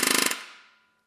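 A ratchet turns an extractor counterclockwise on a stripped hex head bolt during an engine teardown, a quick rapid burst of about eight metallic clicks lasting a third of a second, then a short ringing decay, close and loud.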